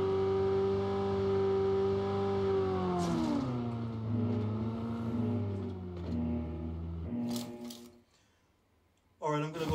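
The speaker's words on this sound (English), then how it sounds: "I love how this car sounds." A car engine in the PUBG Mobile video game holds a steady, loud revving drone, then its pitch shifts and wavers before cutting out near the end, followed by a short burst of sound.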